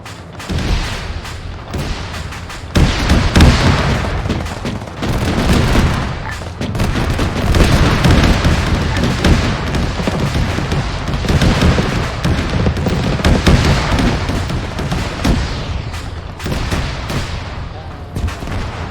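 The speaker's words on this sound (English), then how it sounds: "I heard that explosion from here" Explosions and heavy gunfire in a military video game battle with armored vehicles, with dense repeated booms and bursts of fire that continue loud and unbroken from start to finish.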